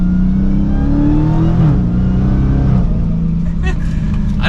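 A Dodge Charger SRT Hellcat Widebody four-door sedan accelerates hard, its loud engine note climbing and dropping sharply at two gear shifts before pulling again, heard close from inside the car.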